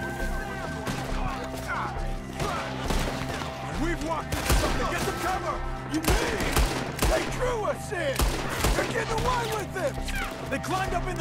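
Gunfire rattles in a continuous fusillade in Red Dead Redemption 2, shots cracking near and far during a shootout with attackers in the trees, with voices shouting over the din.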